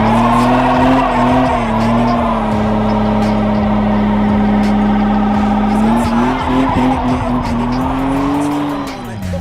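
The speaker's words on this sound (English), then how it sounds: "I literally couldn't have asked for a better burnout" Loud, sustained tire squeal from a burnout in an old school BMW E30, a long steady screech over the engine roar that dips briefly and rises again, then fades at the end.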